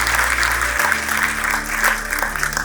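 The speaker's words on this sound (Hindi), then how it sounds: "एक बार चाहूंगा कि जोरदार तालियों के साथ सभी छात्र उनका स्वागत करें।" College students give a guest a loud round of applause, with dense, sustained clapping from a large crowd over a low hum.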